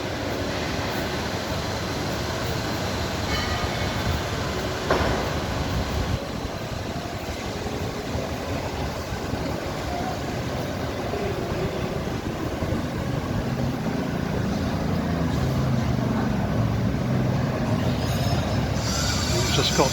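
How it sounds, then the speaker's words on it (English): Loud, constant clattering and metallic rumble fill a huge Thai railway locomotive maintenance shed at the Makkasan factory as workers clean, with squealing metal and scattered clanks throughout. "we're in one of the main locomotive maintenance sheds here"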